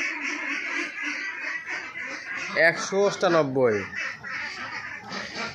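Ducks quack in a short run of calls on a duck farm, rising over steady background noise while a person speaks nearby.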